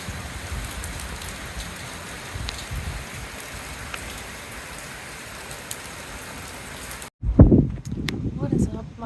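Steady rain falls for the evening outside a dorm, a dense even patter that fills most of the stretch before cutting off abruptly near the end, where a few louder knocks and bumps follow.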